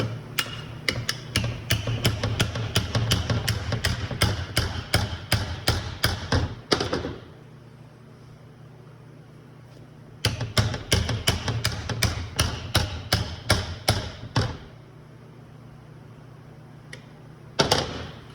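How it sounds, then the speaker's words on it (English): Hammer and mini pry bar whacking a collar off a Jeep NP231 transfer case, sharp metallic strikes in two rapid bursts of many hits, each about six seconds long, then a pause and a single final blow, loud and close. "Take that mini pry bar I told you about and the hammer and whack this collar off."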